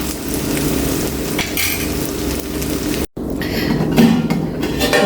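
Cooked ghee rice being mixed with fried tilapia in a pan for Kerala-style tilapia biryani, a loud, steady sizzle with scraping and stirring of a utensil, broken by one brief dropout partway through.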